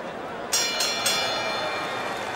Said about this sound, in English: And the bell rings, signifying round number four is underway.